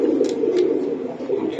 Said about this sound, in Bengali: এটা মশালদম কবুতর,